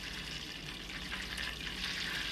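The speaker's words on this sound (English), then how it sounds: "so now it's starting to really get its crackling" Brown butter crackles and bubbles in a hot pan, a soft, steady sizzling hiss with faint popping throughout, quiet and close.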